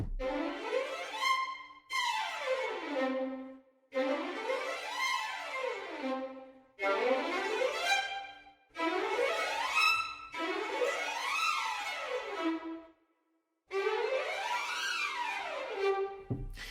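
Orchestral strings from the Cinesamples Sinister Strings library play a series of fast scale runs, each sweeping up and then back down, separated by brief pauses, clean and without any voices.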